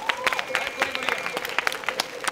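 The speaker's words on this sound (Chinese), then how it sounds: "掌声鼓励一下" A studio audience at a comedy variety show breaks into lively applause, a dense burst of clapping lasting a couple of seconds, with a voice speaking over it.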